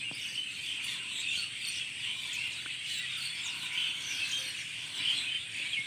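Birds call near their nest with scattered high chirps and twitters over a soft, steady insect-like buzz, fairly faint and distant, with no talking.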